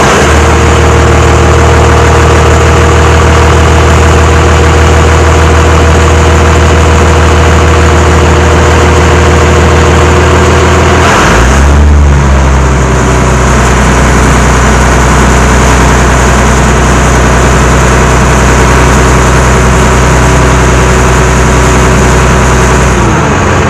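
A Cummins diesel engine converted into an Oliver tractor idles loudly and steadily up close, its low rumble dipping briefly midway before settling back into an even idle.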